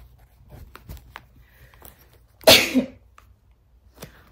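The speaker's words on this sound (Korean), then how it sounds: "이걸 따니까 갑자기 재채기가 나왔어요." A single loud, sharp sneeze from a person opening a newly bought item, near and sudden, amid faint handling rustles and otherwise quiet surroundings.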